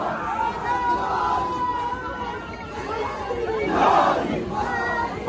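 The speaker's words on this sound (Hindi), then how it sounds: "सो यार यहाँ पे इतनी ज्यादा भीड़ है।" A large crowd at a street rally in Kashmir, on the 15th of Shaban, shouts and chants without a break, loud and close, with a swell of cheering near the middle and a voice over the noise.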